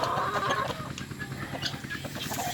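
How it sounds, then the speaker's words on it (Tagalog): Chickens cluck intermittently nearby against a busy outdoor background, with short, scattered calls. "Etong mga manok, nangakabang na."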